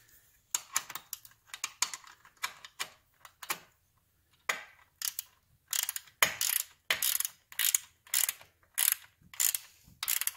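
A wrench ratchets on bolts of a 1971 Triumph Tiger 650 motorcycle during a restoration, giving bursts of quick close clicking strokes with short pauses between them and no talk.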